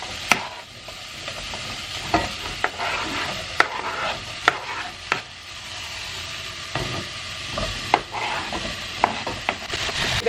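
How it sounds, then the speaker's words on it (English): Chopped vegetables go into a pan of softened onions and peppers, with a constant sizzle broken by repeated sharp knocks and scrapes of stirring. "the onions and peppers are all nice and soft now, so I'm literally just going to add in the rest of this chopped veg."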